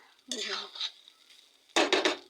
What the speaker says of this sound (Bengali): ভালোভাবে নেড়ে দেয় আবার ঢাকনাগুলো দিয়ে গ্যাস বন্ধ করে দেবো